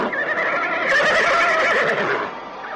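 Horses whinny loudly in a radio drama sound effect as a band of riders abruptly halts, one long shrill neigh rising and falling, near and clear with no talking.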